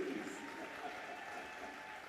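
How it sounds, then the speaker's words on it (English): Applause from the audience at a Swedish jigsaw puzzle championship final, a faint, steady, even patter of many hands carrying on throughout at a distance. "A round of applause for Emma, everybody."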